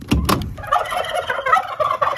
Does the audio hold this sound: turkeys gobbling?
yes